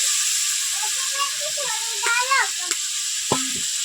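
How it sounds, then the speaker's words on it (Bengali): Snake gourd and potato pieces sizzle in hot oil inside a clay pot, a steady frying hiss running throughout with a few stirring scrapes; a voice speaks briefly over it. "এটাকে ভালো করে নেড়ে চেড়ে নেবো, তেলের মধ্যে ভেজে নেবো।"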